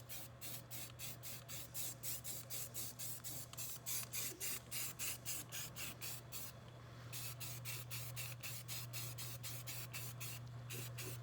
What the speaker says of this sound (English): I'm also gonna be spraying the supports on the backside.